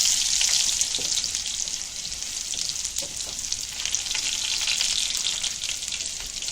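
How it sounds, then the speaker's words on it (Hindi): Continuous bright sizzling of garlic frying in hot oil, close up and steady throughout with no voices. "अभी लहसुन को अच्छा कलर देंगे, कलर आने तक पकाएंगे लहसुन को।"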